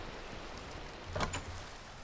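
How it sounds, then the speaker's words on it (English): Steady rain from a video game, a soft even hiss of falling water running throughout, with a brief splashy clatter and low thump near the middle. "I hate the rain."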